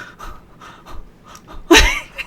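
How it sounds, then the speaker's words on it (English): Loud, close breathing into a microphone, several soft panting breaths followed by one sharp, heavy exhale near the end. "if I'm breathing, I breathe really loud"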